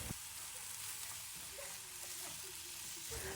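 Rice fries in a pan with soy sauce added, giving a quiet, continuous sizzle with a few soft stirring scrapes throughout.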